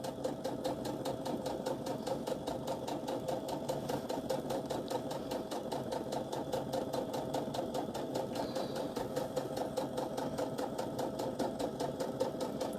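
Close, steady whir of a sewing machine stitching around the edge of a fabric casserole carrier, the needle's fast even rhythm running without pause throughout.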